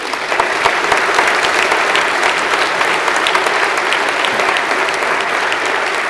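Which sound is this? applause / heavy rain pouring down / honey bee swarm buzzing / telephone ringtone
applause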